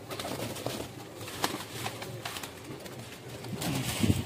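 Zeera pigeons, flying and breeder birds, coo faintly in a loft, low soft calls scattered across the moment against a busy background, with a fuller burst of cooing near the end.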